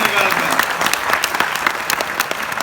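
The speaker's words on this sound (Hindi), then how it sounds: "बजाओ ताली जोरदार" An audience at a live comedy show bursts into loud, dense applause, a continuous close wash of many hands clapping that carries through the whole moment.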